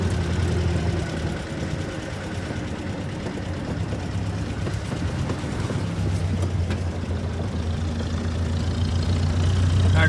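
A 1962 Jeep M170 military ambulance engine running as it is driven, a steady low mechanical drone with a faint rhythmic ticking, fairly close and continuous with no talk.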